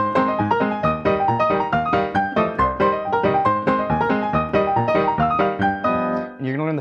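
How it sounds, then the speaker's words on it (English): A solo piano plays a busy instrumental arrangement, with rapid rag rolls in the right hand over a driving left hand. The notes are dense and continuous, closing on a brief sustained chord. "So I have rag rolls in the right hand which sound like this."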